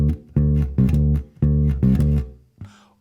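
Slap bass guitar plays a short intro riff of punchy, percussive notes in quick bursts, ending on a brief final hit, heard alone and up close.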